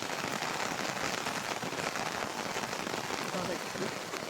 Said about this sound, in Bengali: প্রচুর পরিমাণে বৃষ্টি হচ্ছে আমাদের এলাকায়